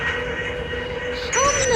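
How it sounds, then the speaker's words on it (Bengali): A train running in a Bangladesh railway video game, with a steady loud engine rumble and a rising tonal whine joining near the end. "তো বন্ধুরা, আমাদের ট্রেন চালু হয়ে গেছে এখন।"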